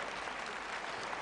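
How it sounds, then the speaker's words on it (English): An audience at a talk claps together, a dense, even wash of applause lasting about a second with no pauses. "you better clap a little louder"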